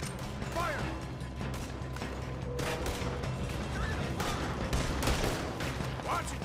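Gunfire rattles through a shootout in the video game Red Dead Redemption 2, with repeated sharp shots and crashes. They come over busy game sound and occasional shouting voices.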